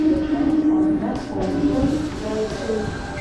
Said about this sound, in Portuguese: Então assim que é o trem.